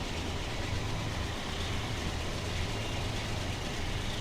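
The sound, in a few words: train running in Train Simulator 2021 video game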